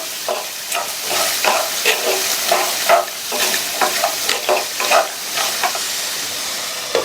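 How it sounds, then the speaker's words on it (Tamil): Carrots tossed with turmeric and salt in a hot pan, a spoon scraping and stirring in steady rhythmic strokes over a continuous close sizzle, with no voices. "இது கூட 2 பிஞ்ச் மஞ்சள் தூளும் இந்த காய்க்கு தேவையான அளவு உப்பையும் சேர்த்து நல்லா ஒரு தடவை மிக்ஸ் பண்ணி விட்டுறலாம்"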